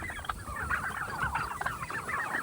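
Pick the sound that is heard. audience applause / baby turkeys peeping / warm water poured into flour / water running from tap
baby turkeys peeping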